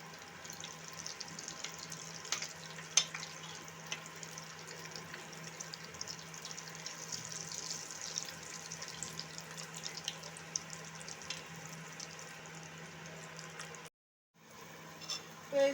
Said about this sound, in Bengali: তো এগুলো কিন্তু মিডিয়াম আঁচে ভালো করে ভেজে নেব